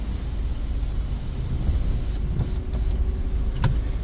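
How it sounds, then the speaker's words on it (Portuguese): Inside a Peugeot 2008 on a rainy road, the sunroof closes with a faint electric motor whir under steady road and rain noise, ending with a soft click near the end. "Vou voltar a fechar o teto."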